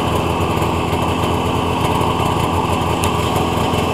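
Snowmobile engine running steadily at idle, a loud, close, buzzing high-pitched drone that holds constant with no talk.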